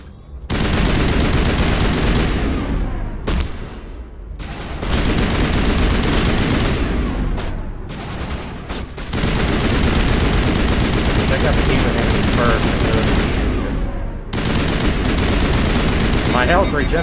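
Loud, sustained gunfire from a firefight in the video game Mass Effect, with dense overlapping bursts that pause only briefly now and then before the barrage resumes.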